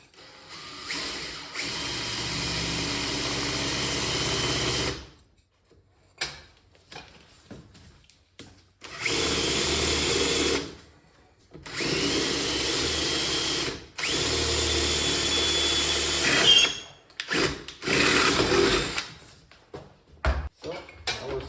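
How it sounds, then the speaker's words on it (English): A power drill with a dull bit bores a hole in metal while building a welding fume extraction system, running in three long grinding bursts of about four seconds each, separated by pauses and followed by short stuttering spurts. "So that was a very dull drill bit, but I got through it eventually."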